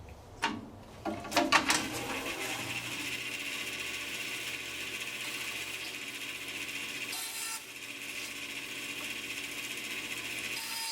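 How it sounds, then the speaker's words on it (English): A bandsaw cuts small pieces of 3/4-inch scrap wood to length, a steady mechanical whir and buzz running throughout after a few brief knocks at the start. "I'm cutting them at 3 inches on the bandsaw"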